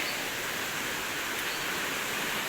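A strong village waterfall in the Konkan countryside rushes in a dense, steady roar of falling water, even and continuous from a short distance with no voices over it.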